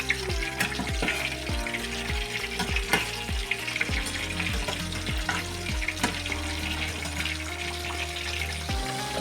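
Aubergines frying in hot oil, a constant close crackling sizzle with frequent small pops and spits, plus some clinking and stirring noises mixed in, no talk.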